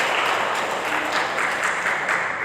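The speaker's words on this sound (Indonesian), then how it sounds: "Boleh tepuk tangan untuk Tuhan kita Yesus Kristus." Audience clapping during a church service, a steady, moderately loud patter of many hands lasting a couple of seconds with no talk over it.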